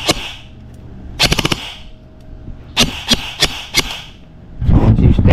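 Daniel Defense M4 PDW airsoft electric rifle fires short full-auto bursts, crisp rapid clacking volleys of several shots each, separated by pauses, loud and close.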